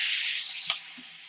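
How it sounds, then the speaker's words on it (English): Steak hitting a hot pan, a bright hissing sizzle that starts strong and slowly fades over about a second, with a faint tap partway through, close and on its own. "Pan's hot. It's gonna sear nicely."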